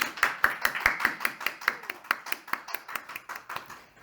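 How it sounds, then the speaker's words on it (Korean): Church congregation clapping hands together in a steady, even rhythm of about five claps per second, moderately near and fairly crisp, with no talk over it. "자, 우리 다 함께 한번 박수로"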